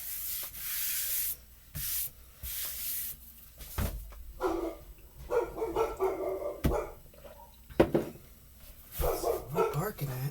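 Dogs bark in short bursts amid rubbing and scraping noises, moderately close, with a person talking at times.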